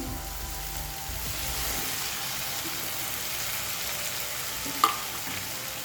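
Boiled rice and soya chunks frying in a pan as they are stirred, a steady close sizzle with faint scraping and one brief clink near the end, no talking.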